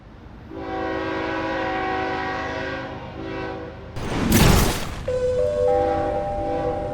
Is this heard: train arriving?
yes